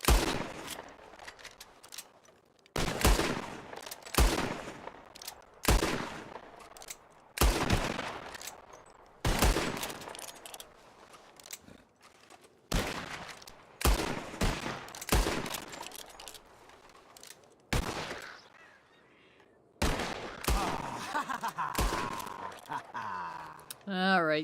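Gunfire in the Western game Red Dead Redemption 2: a string of sharp, separate shots and short volleys spaced by brief silences, fairly close and loud, with occasional talk between them.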